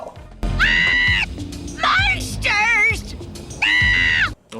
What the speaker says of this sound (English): The woman overreacts and runs away screaming